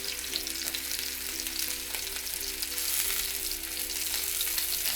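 Vegan meatballs browning in a pan over low to medium heat, a soft, steady close sizzle with a faint low hum beneath and no talk.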